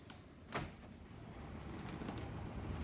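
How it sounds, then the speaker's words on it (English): A sliding glass door at a holiday house is pulled shut, a faint quick slide and soft knock followed by quiet room hum. "So these sliding glass doors"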